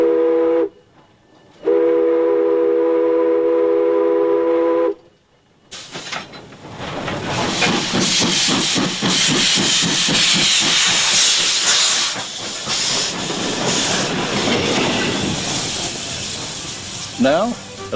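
Swedish steam locomotive 1149 of the Belfast and Moosehead Lake Railroad sounds a loud whistle twice, then a strong steam hiss with rapid chuffing builds and holds close by.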